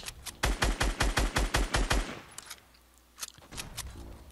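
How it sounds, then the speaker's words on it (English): Rapid automatic gunfire in Fortnite, about a dozen sharp evenly spaced shots in a two-second burst, then a gap and a few scattered single shots afterward. "What the hell is that idiot shooting?"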